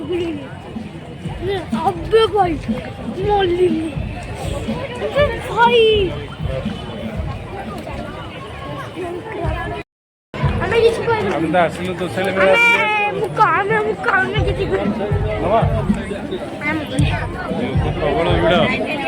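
Dense crowd chatter fills a busy Toshali fair on the Christmas holiday, many voices babbling close by with a nearer voice talking over the hubbub, broken by a brief gap.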